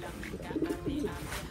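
Pigeons coo softly in a loft housing imported birds, a few short low warbling phrases around the middle under steady background noise.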